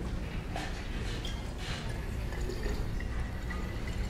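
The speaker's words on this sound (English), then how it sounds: "water pouring through the hexane to the bottom." Water poured into a bottle through a layer of hexane gives a steady, close trickle and splash, with soft dripping accents running continuously at moderate level and no speech over it.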